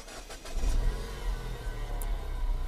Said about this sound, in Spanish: Apretamos el freno y le damos encender.